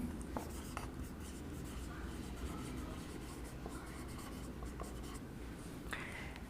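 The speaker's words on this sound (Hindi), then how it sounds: "ऑपरेटर्स के नाम लिख लेते हैं।" Marker or chalk writing on a board during a soil mechanics lecture, with faint scratchy strokes and taps over a steady low room hum.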